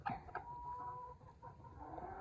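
Native chickens cluck and murmur nearby, a few sharp calls at the start, then a steady run of low clucking with no talking.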